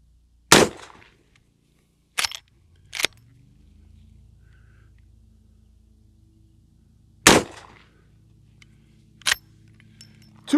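A Henry All Weather side loading gate rifle in 44 Magnum firing 240 grain Winchester rounds: sharp, loud cracks spaced by a few seconds, each followed by quiet, with a faint low hum and no talk.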